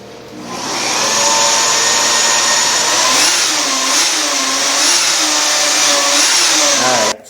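A power drill boring a pilot hole for a cyclekart bracket whines steadily and loudly for several seconds, its pitch wavering slightly as the bit bites, before cutting off abruptly at the end, with no voices.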